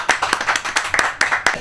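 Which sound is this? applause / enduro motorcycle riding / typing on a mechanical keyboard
applause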